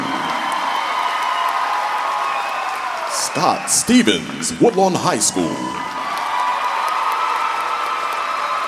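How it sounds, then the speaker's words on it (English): A large crowd at the 2018 EBR Schools convocation keeps up steady applause and cheering for teachers and principals, a continuous roar heard throughout while a voice on a public address system announces names over it. "Give a huge round of applause for your 2018 Teachers and Principals of the Year"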